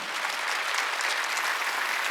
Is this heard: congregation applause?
yes